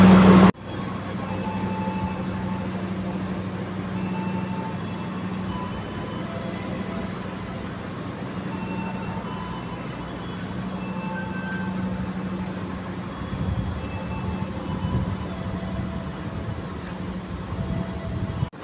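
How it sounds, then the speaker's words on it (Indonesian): Bengawan passenger train on the Pasar Senen to Purwosari route pulls out of the station with a steady, loud rumble and drone of rolling carriages that holds throughout, with no talk over it. "Kereta api Bengawan sudah berangkat"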